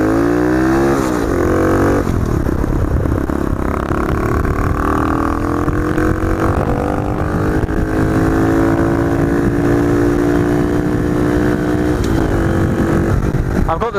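Cub motorcycles riding on a road, with a loud, continuous engine drone and rising, shifting pitch as they cruise, heard close up with wind-buffeted roar and no clear talk.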